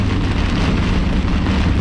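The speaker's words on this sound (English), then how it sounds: "Pretty intense winds, rain-driven winds." Intense rain-driven winds inside a severe squall line, a steady loud roar of wind and heavy rain lashing throughout, dense and unbroken with no voices.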